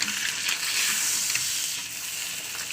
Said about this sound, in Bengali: এদিকে ছেলের জন্য ডিম ভাজা করছে একটু